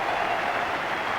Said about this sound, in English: Applause that is not yet ecstatic,